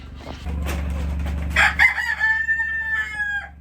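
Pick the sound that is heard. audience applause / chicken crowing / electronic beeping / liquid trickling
chicken crowing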